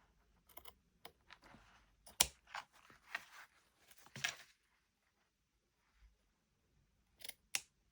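Scissors trim paper for a junk journal cover: several quiet, crisp snips come in irregular bursts, with near-silence in between.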